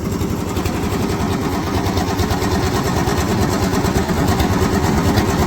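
An engine driving a potato grader machine runs at a steady, even idle, a continuous mid-pitched throb with a fast rhythmic chug that holds unchanged throughout, close by and alone.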